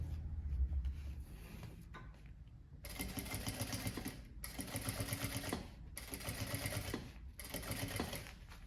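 A sewing machine stitches and backstitches a synthetic printed tote bag, running in three close, even bursts of rapid mechanical clatter with short pauses between them.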